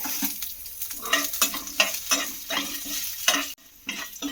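Tempering spices and green chillies crackle and sizzle in hot oil while a spoon stirs and scrapes the pan in an uneven rhythm, close and loud, with no talking.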